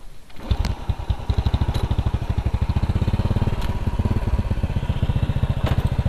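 A Honda Supra motorcycle engine with a touchy, sensitive throttle runs at a close, steady idle, its rapid even putter pulsing throughout with a few light clacks on top.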